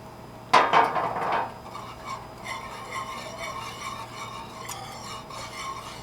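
A utensil scrapes and clinks against a bowl while stirring a teriyaki sauce mixture, starting with a few sharp knocks and then settling into quieter, steady rubbing.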